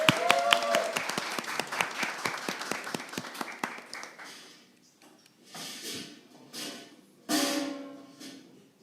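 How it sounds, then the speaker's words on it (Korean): An audience at a motorcycle showcase gives a short burst of clapping to welcome an opening performer, many distinct claps that thin out after a few seconds, followed by someone talking into a microphone. "우리 김경준님 박수로 모셔보도록 하겠습니다"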